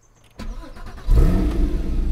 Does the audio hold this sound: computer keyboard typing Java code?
no